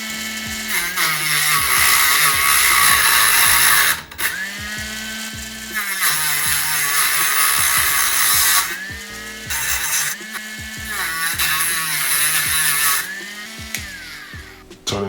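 A cordless Dremel SC 544 with a cutting disc saws through wood, a loud high whine that rises and dips as the blade bites, with several brief pauses and restarts across the stretch and no talk.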